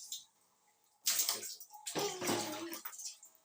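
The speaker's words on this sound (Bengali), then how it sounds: "জল তো সব বাইরে দিয়ে পড়ে যাচ্ছে।" Bath water splashing and spilling over the tub's edge in a home bathroom, arriving in two loud bursts of sloshing after a quiet start, close by and alone.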